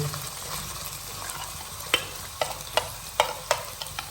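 Onions and green chillies fry in a pan over browned ginger-garlic paste, filling for samosa, a soft continuous sizzle with sharp clicks and taps of a spoon stirring toward the end, close and without speech.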